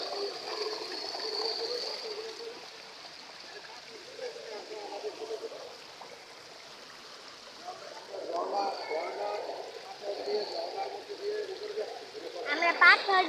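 A hillside stream pours over rocks around people climbing up through the water, giving a continuous rushing wash of moderate level that swells and splashes in places, with voices talking over it at times.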